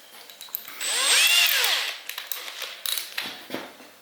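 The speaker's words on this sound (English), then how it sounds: "I have a 5mm drill." A power drill with a 5mm bit whines through a brief, loud bore into a wooden rifle stock, then a few light taps and clicks follow in the quiet afterward.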